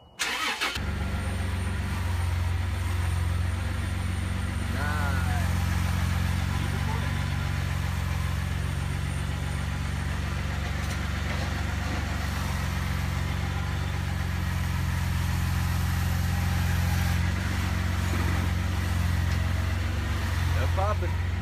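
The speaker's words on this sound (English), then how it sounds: "now we're gonna crank her up, move her around, and see if she's still popping" A 1994 Toyota Land Cruiser engine starts and settles into a steady, loud, close idle that holds throughout, with a constant low rumble and occasional faint mechanical sounds over it.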